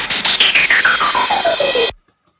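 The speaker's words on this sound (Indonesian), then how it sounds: "Terus di bagian ini ada efek sample fill in seperti ini." A sample fill-in effect in an FL Studio electronic track: a rapid stuttering sequence of repeated hits whose pitch sweeps steadily downward, loud and dense, cutting off abruptly into silence.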